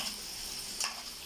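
Liver with onions hisses in a pan in a steady, close sizzle, with one brief brighter burst of stirring partway through.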